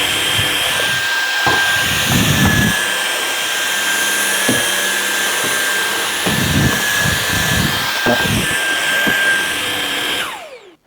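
A Levoit 200 cordless vacuum cleaner runs steadily with a constant high-pitched whine and broadband whoosh, with soft bumps and clunks of it moving over sawdust and debris, before it powers down at the end.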